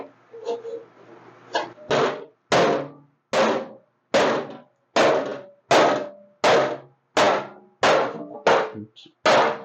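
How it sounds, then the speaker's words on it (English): Mustang car body sheet metal is hammered against a wooden stump with a dozen loud, evenly spaced bangs, close up, after a brief stretch of quieter knocking. "Using the stump to create a tuck, which I can then hammer out"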